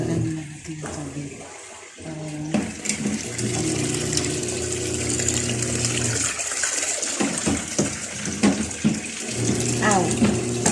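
Water runs steadily from a tap into a sink, a continuous near splashing rush that fills the whole stretch, with a low hum and a few faint voices under it.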